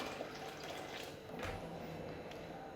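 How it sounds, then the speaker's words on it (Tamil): Water pours into a pot of sambar with cooked lentils and vegetables, a soft, continuous splashing rush heard fairly quietly and alone. "இப்போ காய் வேகிறதுக்கு தேவையான தண்ணி சேர்த்துக்கலாம்."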